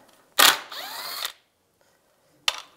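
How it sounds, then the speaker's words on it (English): A power tool with a T30 socket backs screws out of the radiator on a 1999–2005 Volkswagen Jetta. A sharp burst rises into a short whirring spin, then quiet, then another brief close burst. "we're gonna take these four screws out, two on this side, two on the other"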